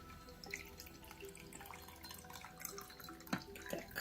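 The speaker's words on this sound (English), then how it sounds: "I've decided to pour it into this really pretty glass I got at Goodwill" A Hanky Panky cocktail is poured into a glass, heard as faint trickling and dripping liquid with a few small clinks near the end, quiet and close, with no talking.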